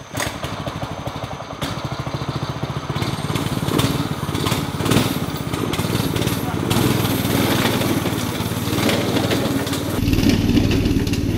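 Small gas engine on a homemade rat rod wagon firing up and running with the choke on: a loud, rough, continuous buzzing putter close by, with people talking over it.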